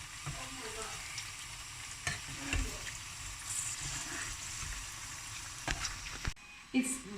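Masala vada frying in hot oil, a steady broadband sizzle running throughout, with a few louder scraping knocks as the pieces are turned over and a brief dip near the end.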